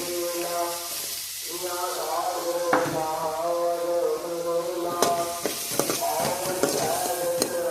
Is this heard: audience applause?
no